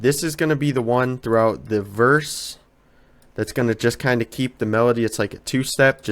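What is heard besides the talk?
No distinct noise like a dog, phone or traffic.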